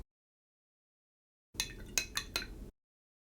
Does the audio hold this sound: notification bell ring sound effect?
no